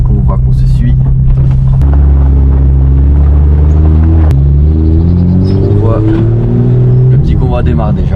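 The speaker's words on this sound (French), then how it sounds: "Le petit convoi démarre déjà." A small convoy of FunCup race cars sets off together on the way to the Spa museum. Loud, close engine roars rise steadily in pitch as the cars accelerate, with a brief dip midway before revving up again.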